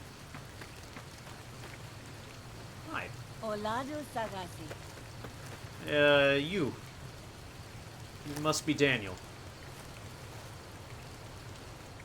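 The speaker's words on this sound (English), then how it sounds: "It's actual rain." Steady, soft rain falls throughout in Fallout: New Vegas, a constant hiss beneath occasional character voices talking.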